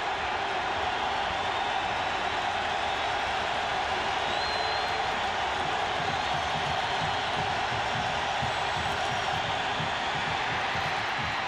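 A packed stadium crowd at Mountaineer Field roars steadily through a 1997 Pitt at West Virginia college football game, a dense, continuous wash of distant cheering without pause.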